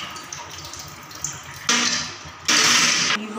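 Tap water runs in a kitchen while macaroni is rinsed in a strainer, starting as a low trickle and surging into two loud, close bursts of splashing flow.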